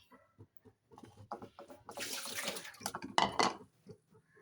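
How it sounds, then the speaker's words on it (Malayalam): Water is tipped out of a container in a home kitchen after washing, a few short splashes building into a broad rushing pour and then a final gush, loud and close with no talk. "നമുക്ക് ഈ വെള്ളം അങ്ങ് കളയാം."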